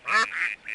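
Cartoonish duck quacks from the You Don't Know Jack quiz game, a few short nasal calls in quick succession, close and clear with no talk over them.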